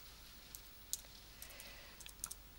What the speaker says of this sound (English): I would type in gallery